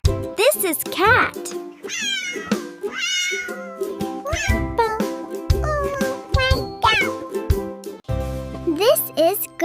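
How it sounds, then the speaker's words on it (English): A cat meows several times in a short, varied series, with chirpy rising calls close to the microphone, mixed among child-like spoken phrases in a kids' vocabulary lesson. "This is Cat."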